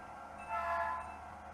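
A light locomotive rolls past a caboose in a rail yard, its drone swelling briefly at mid-distance and then fading, with low rumble underneath.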